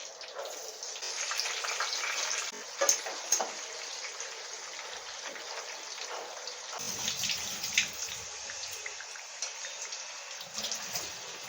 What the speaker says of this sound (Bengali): সব পটলগুলো ভাজা হয়ে গেছে পটলগুলো তুলে নিচ্ছে পটলগুলো ভেজে নেব